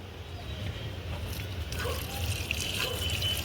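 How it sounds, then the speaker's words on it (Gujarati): Water is poured onto newly planted chilli saplings, making a soft, steady trickle and splash over a low background rumble that runs throughout. "તમારે જેમ પાણી નાખો એમ નાખો"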